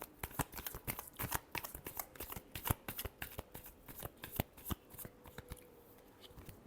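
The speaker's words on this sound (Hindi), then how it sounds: "Last shuffle." Tarot cards being shuffled, a fast run of crisp riffling snaps and flutters with brief pauses, close and fairly quiet, with no voice over it.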